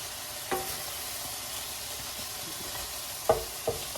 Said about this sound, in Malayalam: ഇപ്പോൾ ഒരു സ്പൂൺ എണ്ണ ഒഴിച്ചിട്ടുണ്ട്. അതിലേക്ക് കുറച്ച് കടുക് ഇട്ട് കൊടുത്തു